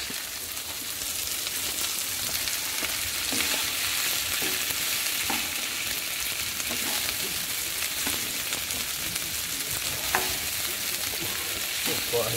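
Chopped peppers and pre-cut onions fry in a hot pan with a steady, dense sizzle, broken by occasional light scrapes and clicks of stirring, close and continuous with no talking.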